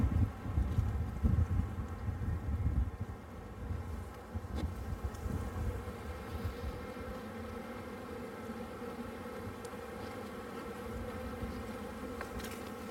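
Agitated honeybees buzz densely around an opened hive in spring, a steady close drone with light wind rumble on the microphone and no talk.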